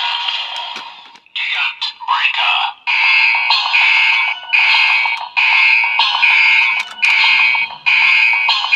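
A loud electronic toy transformation belt sound effect plays up close: a choppy burst of tones, then a steady, pulsing synthesized jingle repeating in even rhythmic bursts.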